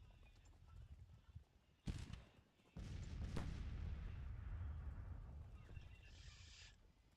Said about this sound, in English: I'm very concerned that I only see artillery. Ah, they're firing back.